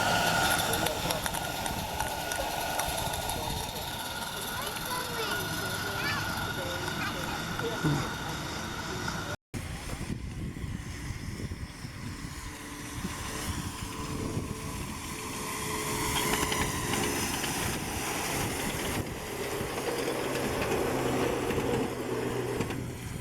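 A live steam locomotive pulls away at a live steamers club track, a steady mechanical rumble and hiss running throughout while people talk nearby.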